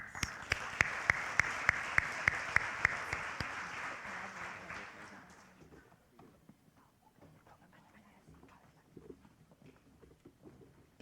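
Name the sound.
round of applause at senior awards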